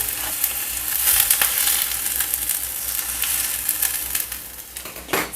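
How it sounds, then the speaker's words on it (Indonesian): Fried tofu reheating in a pan gives off a steady, loud sizzle and spatter that runs for several seconds, with a few brief stirring clicks and no talking. "Aku mau tahu goreng. Jadi tinggal panasin gini untuk makan."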